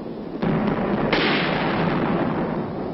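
A heavy mortar company fires 4.2-inch shells in a continuous bombardment of Hill 1179 during the Korean War, heard as a loud, rolling series of blasts and rumbling bursts in rapid succession, dense and sustained, with no voices.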